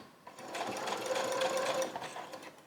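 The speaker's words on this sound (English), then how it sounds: "just to be safe, I backstitched over the pipe cleaner or chenille stint" A sewing machine backstitches over a chenille stem on a fabric scrunchie, giving a steady close whirring run of stitches for a little over a second, then slowing to a brief stop with a few softer clicks.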